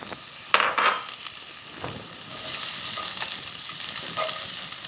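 Onions and garlic frying in a pan, a steady soft sizzle with a few stirring scrapes and clinks near the start, close and alone without talk.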